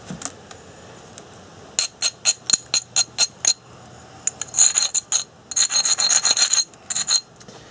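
Flint knapping on a stone point: a series of sharp, rasping scrapes and clicks at close range, first as short separate strokes in a quick rhythm, then denser bursts of scraping, with no talking.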